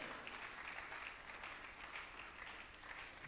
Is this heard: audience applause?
yes